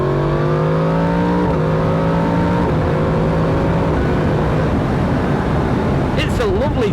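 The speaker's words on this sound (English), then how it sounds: "just short shifting through the gears if I can, because the induction noise is quite amazing" Engine of a 2022 Yamaha MT-10 SP motorcycle short-shifting up through the gears, rising induction and engine tones stepping down at each shift, loud and steady throughout, with a brief sharp sweep near the end.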